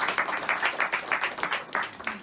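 Audience applause at a community gathering of the Ohaneze Ndi Igbo in South Africa: a steady round of clapping from a crowd, with rapid, uneven pulses throughout.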